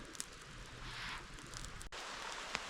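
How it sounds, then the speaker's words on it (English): Heavy rain falls in Lithuanian wilderness at a campsite, a dense steady hiss with scattered drops striking nearby surfaces, continuous and without voices. "A much heavier rain has kicked in"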